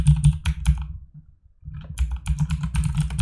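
Rapid clattering keystrokes on a computer keyboard while an email address is entered, close and clear, with a short pause midway before the typing resumes.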